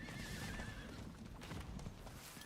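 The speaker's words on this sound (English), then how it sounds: "It's a BlizzCon horse." A BlizzCon horse mount in the Diablo 4 video game neighs, with clip-clop hoofbeats in a dense, steady game soundscape.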